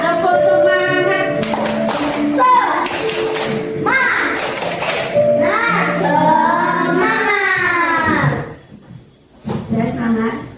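Children clap a rhythmic chant in unison in a classroom, sharp broadband claps in quick bursts over steady chanting voices, fairly loud and close.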